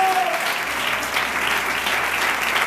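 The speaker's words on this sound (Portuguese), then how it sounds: "Aplauda Ele, glorifica Ele." A church congregation at a youth worship service claps for God, a dense sustained round of applause filling the room, with a voice briefly audible over it at the start.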